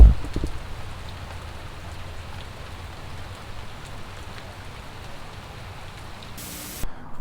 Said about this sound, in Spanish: Ahora sí, los dejaré con esta lluvia.